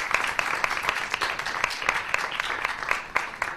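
An audience applauds a doctor after a lecture on emotions in psychoeducational development, a steady burst of clapping from many hands filling the room with no talk over it.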